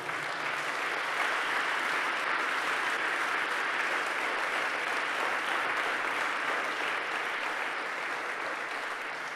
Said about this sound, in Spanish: dale un fuerte aplauso a Jesús por esto